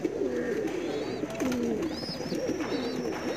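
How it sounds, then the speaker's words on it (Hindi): Kasni high-flying pigeons coo close by in soft, throaty, rolling phrases that repeat over a faint background hiss. "हाई फ्लाइंग पिजन, सभी तरह की वीडियो मिलती है हमारे चैनल पर।"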